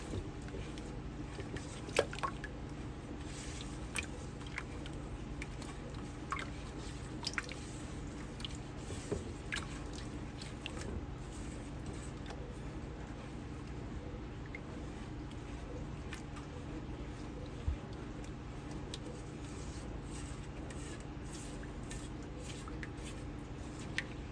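Homemade meatball mixture laced with vinegar is worked together by hand, giving soft, wet squishing and squelching that continues quietly and steadily throughout.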